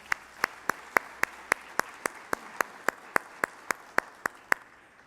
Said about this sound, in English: I want to give a quick round of applause to Widow.